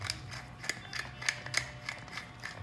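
Pepper mill grinding coarse black pepper over pork chops, a series of dry, ratcheting crunches in an irregular rhythm, close and fairly quiet.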